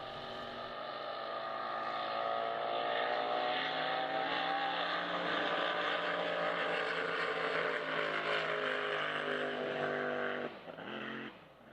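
A drag racing boat at a lane-based drag boat event in San Angelo roars down the course, its engine building to a loud, sustained howl for about ten seconds before cutting off abruptly near the end.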